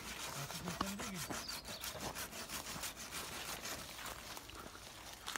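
A hand saw cuts through wood from the underside, with steady, close rasping strokes in a regular back-and-forth rhythm, fairly loud and alone.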